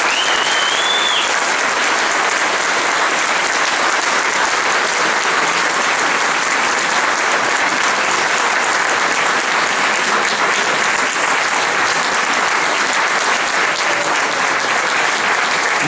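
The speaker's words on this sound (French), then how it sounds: "vos applaudissements me font chaud au cœur" A crowd applauding at a local political gathering in Monteux, Vaucluse: sustained, even clapping from many hands, loud and continuous with no break.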